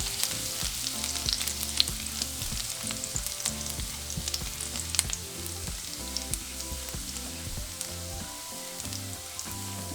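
Garlic sizzles in oil in a pan, making a steady, close crackling fry with frequent small pops and spatters throughout and no voice.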